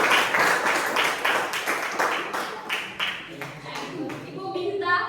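A classroom of students claps in a quick, rhythmic burst of applause, loud and close, with voices calling out as the clapping fades toward the end.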